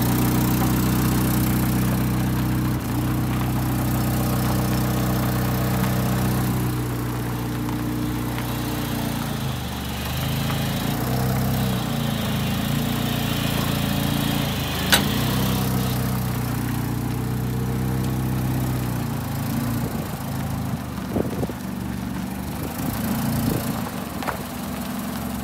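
A forklift engine idles and works while pulling a boat out of the water, a steady mid-to-low engine drone that runs throughout with slight rises in load and a sharp click partway through.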